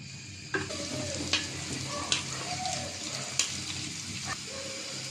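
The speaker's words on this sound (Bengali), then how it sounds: "তেল দিয়ে দিলাম পেঁয়াজ কুচি দিয়ে দিলাম" Chopped onions sizzle in hot oil for a khichuri tempering, a steady close frying hiss broken by several sharp stirring scrapes and clanks.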